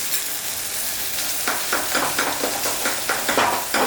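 Okra is stir-fried with red chili powder and garlic chili powder: a loud, close sizzle joined partway through by rhythmic scraping strokes of stirring, no voices.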